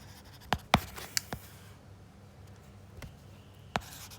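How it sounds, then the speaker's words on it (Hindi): An equation written by hand with a pen on paper, a few sparse close scratches and taps amid quiet, no talk. "तो मैं यहाँ पर लिख लेता हूँ"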